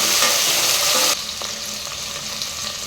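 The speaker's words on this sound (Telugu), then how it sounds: "టమాటా కూడా లైట్గా ఫ్రై చేసుకోవాలి" Tomato pieces fry with dried red chillies in hot oil, a bright steady sizzle that drops sharply to a softer crackle partway through, with faint stirring clinks.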